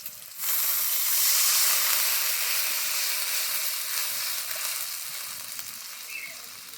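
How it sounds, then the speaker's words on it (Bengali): Water poured into hot spice tempering for a Bengali fish curry erupts into a loud sizzling hiss that starts abruptly, then gradually softens as it steams and bubbles. "এবার দিয়ে দেবো পরিমাণ মতো জল"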